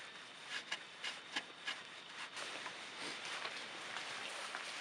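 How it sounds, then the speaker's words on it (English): A damp rag rubs and wipes dirt off the fender area of a vehicle during a Bushwacker flat fender flare install, with a few soft rhythmic strokes close by, then a fainter continuous scrubbing hiss. "might as well go ahead and just clean the area now with a damp rag"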